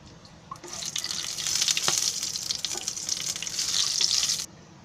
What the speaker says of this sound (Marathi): आता मी हे फोडणीसाठी देते आहे